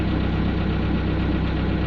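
A car engine idles steadily right after being revved down, close and even, with a low, throbbing pulse and slight knock running through it and no voices.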